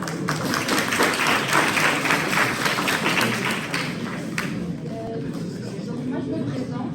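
Audience in a French university setting applauds a student after her talk, a dense burst of clapping from many hands that fades around four seconds, followed by quieter room noise and faint voices.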